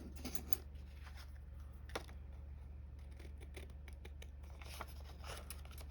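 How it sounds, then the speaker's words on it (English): Scissors cutting out a small piece for a miniature magic shop model, a series of close, crisp snips and scratchy paper sounds over a steady low hum. "I need to cut that out"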